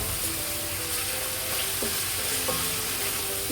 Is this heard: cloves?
yes